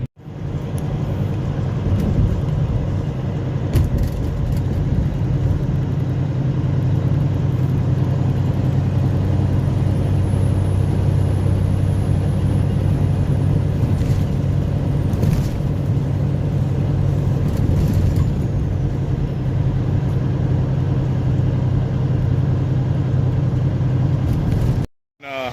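A truck rolls down the road with a steady, continuous low engine drone and road rumble that holds constant for about 25 seconds before cutting off abruptly at the end.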